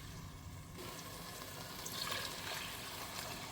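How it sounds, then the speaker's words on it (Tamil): Water pours steadily into a cooking pot on a home stove, a soft continuous splashing rush that swells slightly midway, heard alone. "3 கப்பு தண்ணி விட்டேன்."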